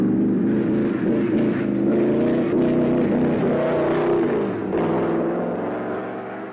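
A 1930s Mercedes W125 Silver Arrow racing car on the Nürburgring circuit gives a loud, steady engine roar that shifts pitch as it changes speed, then fades slightly toward the end.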